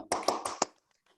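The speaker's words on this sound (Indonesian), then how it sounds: "Ayo tepuk tangannya heboh" A class group of children claps hands enthusiastically in a classroom, four loud sharp bursts of clapping in quick succession, then stopping abruptly into near silence.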